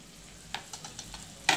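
Chopped ginger and sliced chillies sizzling in a frying pan, a soft steady fry punctuated by a few stirring scrapes and one louder clatter near the end, fairly faint.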